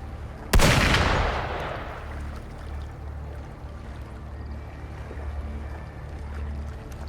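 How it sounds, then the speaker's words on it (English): A single sharp gunshot boom in the Wuthering Waves video game, a loud close crack at the start that decays into a long rumbling tail, followed by low ambient game noise. "Gunfire!"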